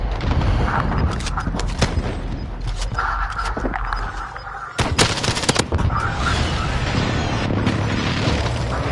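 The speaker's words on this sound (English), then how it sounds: "Enemy precision airstrike. Take cover." Precision airstrike explosions in Call of Duty Warzone, a loud continuous barrage of rumbling blasts and crackling gunfire that fills the whole stretch, with a sharp break and a renewed burst midway.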